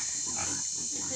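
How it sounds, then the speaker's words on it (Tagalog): Farm pigs in a rural yard in the Philippines, giving a short, steady low grunting and snuffling close by, with no talk over it. "Mga alagang baboy."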